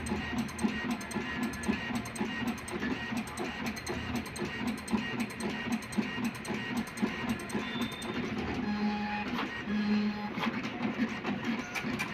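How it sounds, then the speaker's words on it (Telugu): A TVS Speed 40 Plus dot-matrix printer runs through its calibration, feeding paper and printing a page on its own with a continuous rapid mechanical chatter and whirring carriage passes, close up and steady. "తనంతట తానే ప్రింట్ అవుతుందండి."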